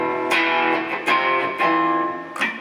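A custom epoxy-bodied electric guitar played through heavy distortion on the bridge pickup, loud sustained chords with four sharp re-struck attacks, each ringing out thick and gritty.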